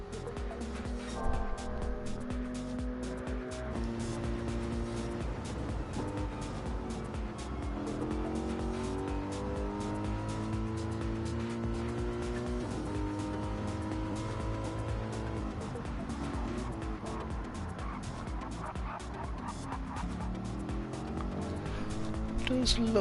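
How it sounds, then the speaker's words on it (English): Race cars lapping Mount Panorama in a sim racing game, including a BMW M6, with layered engine drones shifting pitch through gear changes and passes, heard under continuous commentary. "Being hunted down by Peter from Poland in P6 in his beautiful looking BMW M6 there."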